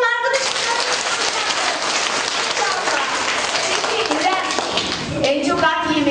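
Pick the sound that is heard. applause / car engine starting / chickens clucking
applause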